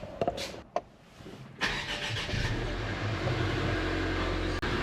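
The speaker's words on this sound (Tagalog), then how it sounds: "iwawarm up ko lang yung aking sasakyan" A car engine starts with a few cranking clicks, then catches and settles into a loud, steady idle as it warms up, close by with no talking.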